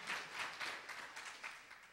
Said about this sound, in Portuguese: Dá aquela melhor salva de palmas que você pode dar